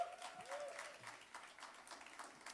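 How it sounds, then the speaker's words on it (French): An audience applauds a singer at a live music event, soft, steady clapping heard from a distance, with a faint voice briefly underneath. "On l'applaudit."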